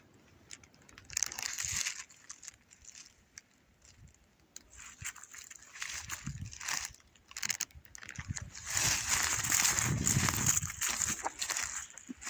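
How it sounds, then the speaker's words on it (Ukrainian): A beech tree in a winter forest is pushed over and falls, giving close creaks and splintering cracks that build into a longer crunching, rustling crash near the end. "Нарешті звалила того бука."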